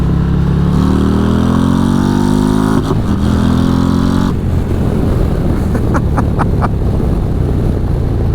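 Harley-Davidson motorcycle fitted with a 135ci crate engine accelerating in a rolling pull, loud engine note rising steadily in pitch through the gears with brief shift breaks, and wind noise throughout.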